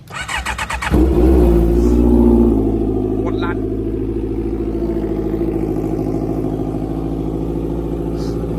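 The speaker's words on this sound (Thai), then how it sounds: "ฟังเสียงเครื่องยนต์" A 2021 Honda CBR650R motorcycle engine with about 1,100 km on it starts with a sharp rev, then settles into a steady, close, loud idle as someone briefly speaks over it.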